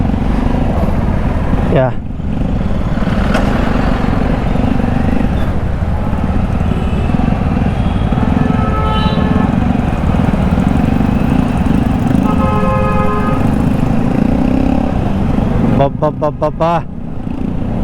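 A large group of motorbikes, part of a weekend ride of over a hundred bikes, runs steadily and loudly close by as the ride gets under way, with a continuous engine drone throughout and people talking over it.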